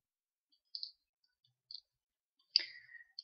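A computer mouse clicks a few times while modeling in 3ds Max, with sparse, sharp, close clicks separated by near silence and one slightly longer click-and-rattle.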